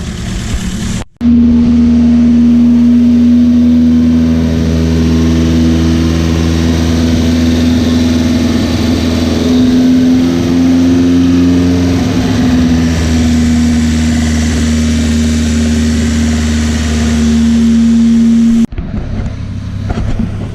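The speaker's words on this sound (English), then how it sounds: "I can already tell this thing's gonna sound unreal through here. So yeah, let's hear it go." A Volvo B230 engine fitted with individual throttle bodies runs on a dyno, very loud and close, holding a steady droning idle with slight swells in pitch before cutting off near the end.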